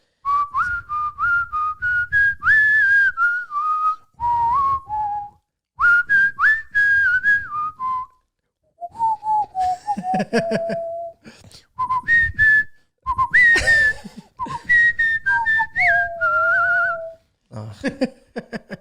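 A person whistles the melody of a song alone, in clear, close phrases of sustained and sliding notes separated by short breaths and pauses.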